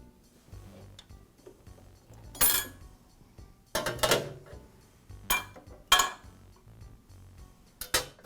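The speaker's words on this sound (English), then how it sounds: "I'll use the magnetic holders that came with the planer to remove the plates and blades." Makita planer set plates and blades lifted off with magnetic holders, a few sharp metallic clinks and scrapes spaced seconds apart, up close against a quiet background.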